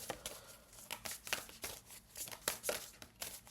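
Tarot cards being shuffled during a divination reading, a run of crisp riffling and flicking bursts in an irregular rhythm, close by and fairly quiet, with no one talking.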